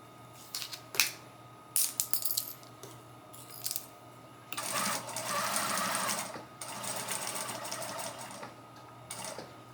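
A home sewing machine stitches a fleece sherpa blanket in bursts, with short whirring runs at first, then longer steady stretches of stitching and small mechanical clicks in between.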